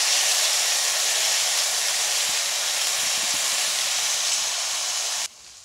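Pumpkin seed paste poured into hot oil tempered with nigella seeds sizzles in a Bengali home kitchen, giving a loud, steady hiss that cuts off abruptly near the end.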